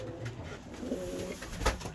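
Pigeons softly cooing in a breeding loft, repeated low throaty coos over a quiet indoor background, with no talk.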